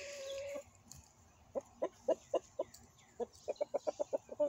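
Chickens clucking at a coop: a close run of short, sharp clucks in an uneven rhythm, with no talking.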